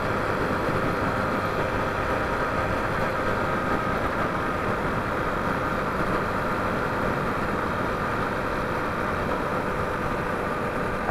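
A Honda XRM motorcycle in motard setup runs with a steady, constant engine drone, vibrating evenly throughout with no pauses or voices.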